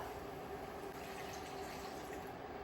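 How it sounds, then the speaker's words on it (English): Vegetable broth pours into a pot of vegan chili in a faint, continuous liquid gush lasting a few seconds, with no speech. "now I'm going to add in 1 cup of either chickenless broth or vegetable broth"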